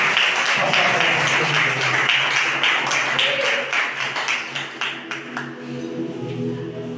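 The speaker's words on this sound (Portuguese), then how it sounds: "Palmas para Jesus novamente" A church congregation claps for Jesus, a dense wash of applause that thins out into scattered separate claps and fades toward the end, with low music or voices sustained underneath.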